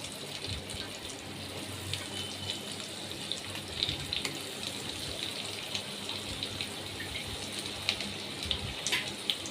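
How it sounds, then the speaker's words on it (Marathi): Poha chakli spirals hiss and sizzle steadily in hot oil, a dense continuous bubbling frying sound with faint crackles, heard close and alone. "आता आपण यांना तळून घेऊया तेलामध्ये"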